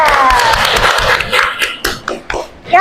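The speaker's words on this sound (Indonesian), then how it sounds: "tepuk tangan dulu buat Mas Ibra" A small classroom group gives a student a short burst of hand clapping. It starts after a brief bit of voice and ends in a few uneven final claps, close and fairly loud.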